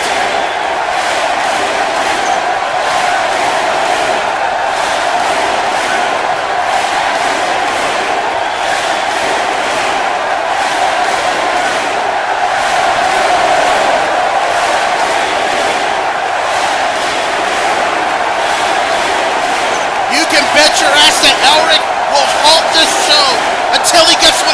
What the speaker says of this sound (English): This crowd is in a fever pitch for the Full Metal Alchemist.